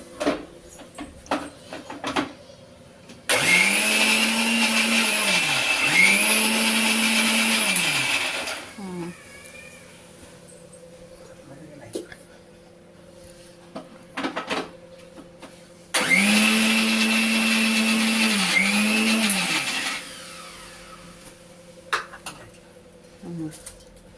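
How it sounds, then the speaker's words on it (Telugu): A kitchen mixer grinder grinding chopped bottle gourd runs in two loud whirring bursts of several seconds each, pitch dipping as it pulses, separated by quieter clinks and handling sounds nearby. "సొరకాయ పట్టుకొని కోసుకొని సన్నగా మిక్సీ పట్టుకోవాలి"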